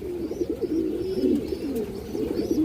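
A pair of silver pigeons cooing close by, soft repeated throaty coos in a continuous low warble, with no voices.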